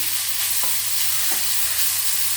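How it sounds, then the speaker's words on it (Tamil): Grated radish stir-fries in a pan for radish chutney, a loud continuous sizzle with a few spatula scrapes, heard up close and alone. "முள்ளங்கியை தனியாக போட்டு வறுக்கணும்."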